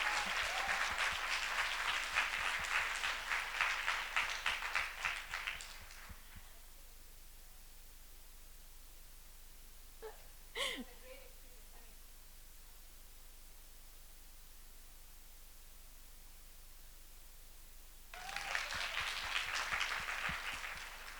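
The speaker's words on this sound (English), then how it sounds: "let's give them a huge round of applause" Applause from a summit audience comes in two loud bursts of dense clapping, one at the start and one near the end, with a near-silent stretch between them that holds only a brief faint noise.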